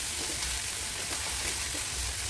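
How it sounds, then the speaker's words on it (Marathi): Onion and chopped spring onion greens frying in a pan over medium heat give off a steady, close, even sizzle with no pauses and no voices. "त्यानंतर जो आपण कांद्याची पात चिरली होती ती व्यवस्थित परतून घ्यायची"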